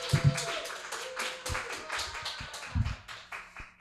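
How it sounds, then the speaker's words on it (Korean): A church congregation at a Friday evening invitation worship service in Korea claps to welcome a pastor to the stage: a moderate, fairly distant patter of hands with a few louder bursts, no voices. "큰 박수로 환영해 주십시오."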